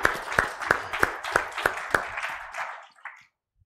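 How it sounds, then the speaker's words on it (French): A church congregation claps for Jesus during a Sunday worship service, sharp rhythmic claps about three per second that thin out and fade after roughly three seconds, heard close and without speech. "applaud Jesus"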